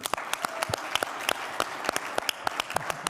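Applause for a confirmation class at a Shabbat worship service, steady dense clapping with sharp individual claps standing out throughout, moderately loud in a room.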